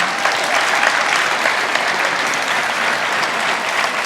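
Sustained, dense audience applause at an annual meeting's poster presentation award ceremony as a prize winner receives a check; steady and close for the whole stretch, with no talk over it.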